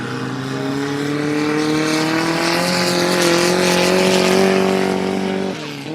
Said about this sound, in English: like a 2-liter Subaru on nitrous